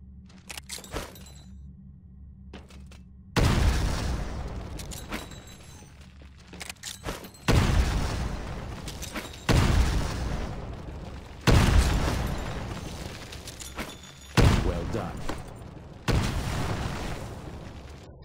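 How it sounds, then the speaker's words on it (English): Grenade blasts in a Titanfall training course, one per window: about six loud, sharp booms spaced roughly two seconds apart, each with a rumbling, crackling tail, following a quieter stretch of small pops and clatter. "Throw a grenade into each of the windows."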